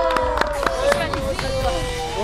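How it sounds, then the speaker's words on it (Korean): A trekking group on Namhansan applauds a guest: a short run of scattered claps under lively talking and crowd chatter outdoors. "박수."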